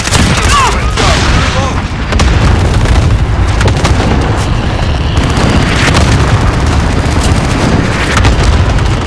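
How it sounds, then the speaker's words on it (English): A cluster strike in Call of Duty: Modern Warfare sets off a dense, continuous run of heavy booming explosions, loud and rumbling, with overlapping blasts and scattered gunfire and no pause. "Allied cluster strike inbound."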